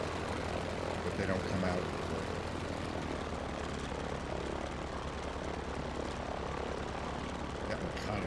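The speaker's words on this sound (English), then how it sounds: "It's a loud engine." A loud aircraft engine drones steadily in flight inside a small cockpit with the canopy open, a constant heavy roar with a low throbbing hum, while someone speaks briefly over it.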